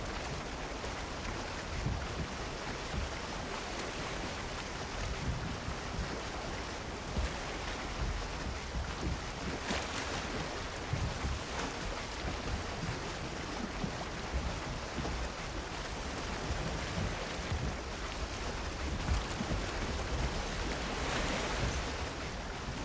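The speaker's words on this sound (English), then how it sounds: "the waves are in" Ocean waves wash and surge in the Valheim video game while a boat sails, with wind mixed in; the swell rolls steadily and fairly softly, with occasional louder splashes and no speech.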